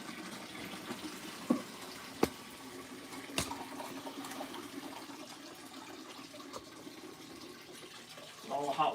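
Hot dye water draining from a pot after dyeing puppet fleece, a low continuous rush and gurgle of water with occasional sharp clunks and clicks, fairly quiet and close, swelling near the end.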